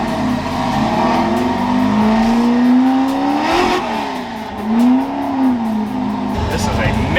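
A Ford F100 on slick tires revs hard and accelerates, engine pitch climbing, dipping and climbing again in loud close sweeps, with a voice talking over it.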